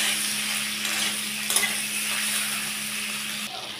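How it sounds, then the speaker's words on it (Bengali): Okra fries in a pan with turmeric and salt, giving a steady soft sizzle with occasional stirring scrapes. The sound is fairly quiet and even, with no voices. "দিয়ে আমি এটাকে একটু ভাজা ভাজা করে নেব।"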